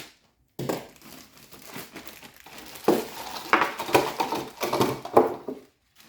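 Plastic packaging from a 2022 Jurassic World Captivz Dominion Edition toy egg being opened and crumpled by hand, with close, crackling crinkles in irregular bursts that grow louder and busier toward the end.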